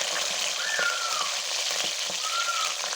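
Onions sizzle steadily in hot oil with cumin for chana dal, with a loud, close, continuous frying hiss and crackle, and no voices.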